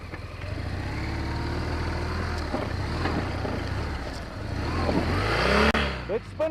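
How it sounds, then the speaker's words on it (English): A BMW R 1200 GS motorcycle revs hard while its back wheel spins in sand, a steady loud engine drone with rising pitch sweeps near the end, buffeted by wind noise. "Let's spin around. Let the back wheel spin."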